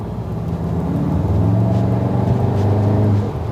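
A VW Tiguan R engine and exhaust drone steadily while the car is driven and turned into a corner. The note is a continuous low, harmonic rumble that swells slightly midway, with no talking.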